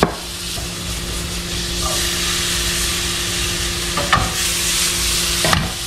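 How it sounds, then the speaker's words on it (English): Onions and peppers sautéing in a little oil over medium heat, a steady close sizzle with faint stirring scrapes near the end and no talking. "Onions and peppers. I'm gonna let this saute."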